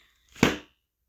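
A single soft, papery thump as a book snaps shut, brief and fairly close, with nothing else around it.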